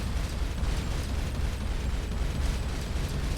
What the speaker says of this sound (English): Shoot down its missiles. And then just shoot bits off.